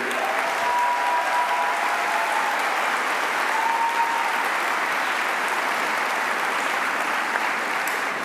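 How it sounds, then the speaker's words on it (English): A large crowd at a high school commencement ceremony claps for the live band, a loud, sustained, even wall of applause with a faint whistle or cheer rising through it. "let's have a round of applause too for our live band up here"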